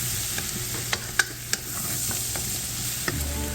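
A spoon stirs flour as it cooks in a lamb and Guinness stew pot, a soft steady sizzle under scattered scraping clicks of the utensil against the pot, close and alone.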